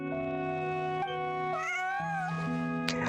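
A cat in a video game gives several clear, drawn-out meows one after another, close and loud over a steady background music drone, with no talking.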